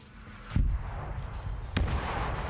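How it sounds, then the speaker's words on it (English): Artillery shells land in a military combat game, two sharp distant booms about a second apart over a constant rumbling battlefield backdrop. "All right, we hear more artillery coming in."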